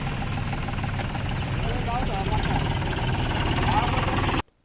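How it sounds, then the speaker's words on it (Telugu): A tractor engine runs steadily before ploughing a paddy field, a continuous loud low rumble with a rhythmic mechanical throb, close by, cutting off abruptly at the end; voices are present. "పొలాలకి అయితే వెళ్తుంది ట్రాక్టరు"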